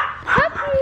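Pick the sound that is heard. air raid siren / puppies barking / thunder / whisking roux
puppies barking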